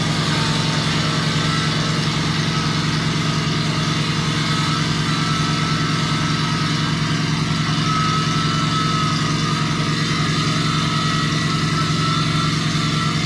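A Mitsubishi 4D30 diesel engine running after a tune-up, a steady, loud, close idle with a constant low hum and even drone throughout, no voices.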